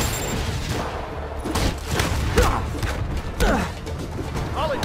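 Rockets launching and bursting in Marvel's Spider-Man, a rapid volley of whooshing shots and mechanical clatter with booming impacts, loud and busy under game effects.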